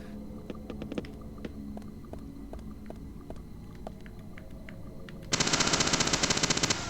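Gunfire in the Deadly Premonition video game: scattered single shots at objects, each sharp and separate, then a sudden loud burst of rapid automatic fire to the end.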